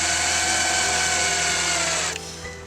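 A power tool, likely a cordless driver, drives screws to fasten a tread plate onto the rear bumper of a Land Rover Discovery 4. It runs as a steady, loud whir that stops near the end, with no talk over it.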